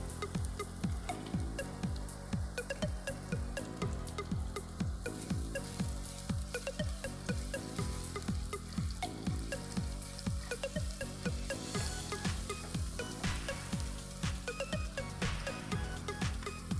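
Ginger and garlic paste sizzling in a pan for a Marathi chana dal curry, a steady close fry with rhythmic scraping from regular stirring.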